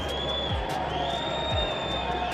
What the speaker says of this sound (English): And a huge cheer goes up